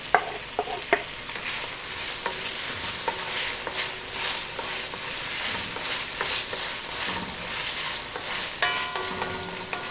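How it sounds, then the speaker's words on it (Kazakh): Ingredients for Kazakh kespe noodle soup fry in a hot pan, a steady sizzle broken by scraping stirs and a few sharp clinks, with no talking. "Жақсылап тағы да 1-2 минут қуырамыз."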